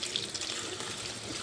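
A kitchen tap runs water into a sink during cooking, a steady splashing rush that holds close and fairly loud for the whole stretch with no talking.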